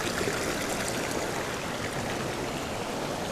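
The Narayan Ganga river in Chamoli, Uttarakhand, runs fast and close by. Its steady rushing roar of water fills the whole moment without a break, and no voices are heard.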